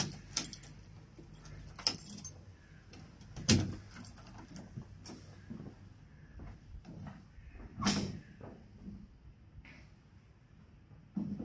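Keys jangle in bursts while a shop door is unlocked and opened in the morning, with sharp clicks and knocks near 0.5, 3.5 and 8 seconds, close and fairly quiet, and no talk.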